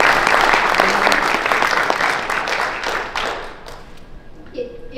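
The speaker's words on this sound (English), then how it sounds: "So give them a big round of applause." An audience at a trade expo session gives a loud round of applause, with close, sharp individual claps over a full crowd that gradually thins and fades toward the end, leaving a few scattered claps and faint voices.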